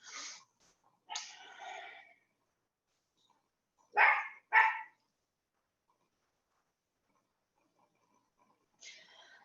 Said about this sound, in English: if you hear her barking in the background